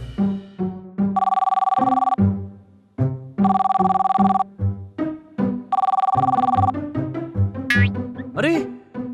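A cartoon telephone rings in repeated bright electronic bursts, alternating with animated characters' voices, and ends with springy boing-like cartoon effects.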